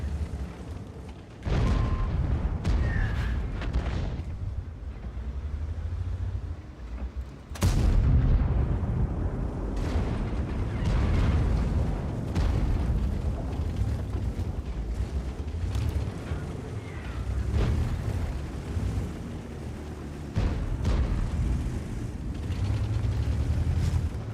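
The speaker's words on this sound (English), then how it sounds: "artillery shell is gonna come back in on him in a second" Artillery shells fire and land in a tank battle video game, a run of deep booms and blasts that roll through a dense, continuous rumble, with several sharp, heavy impacts spread across it.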